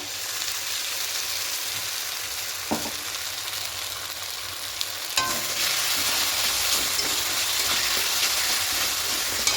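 Spice paste sizzles and fries loudly in a pan for a potato and cauliflower roast, a steady crackling hiss with occasional stirring scrapes, and the sizzle grows fuller partway through, with no talking.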